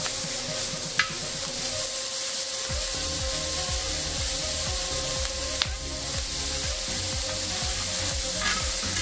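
Bacon frying in a discada for Sonoran-style discada, a loud, continuous sizzle with rhythmic scraping and stirring strokes and a couple of sharp metallic clanks.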